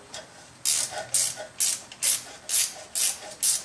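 A ratchet wrench loosens the bolts on the idler pulley of a Dodge 318 5.2L engine during a water pump replacement, clicking in about eight quick, evenly spaced bursts, close and loud.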